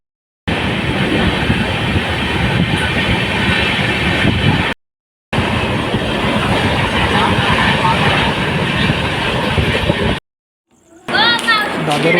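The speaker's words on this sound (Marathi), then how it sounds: "दादरवरून 6 वाजता निघालेली आमची ट्रेन लोणावळा स्टेशनला सकाळी 8 वाजता येऊन पोचली." A passenger train travelling from Dadar to Lonavala rumbles and rattles loudly from inside in two long continuous stretches separated by short breaks, followed by a brief burst of other sound at the end.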